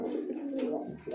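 Lotan pigeons with crests and long foot feathers cooing in a loft, a close, continuous throaty murmur with brief higher rustles.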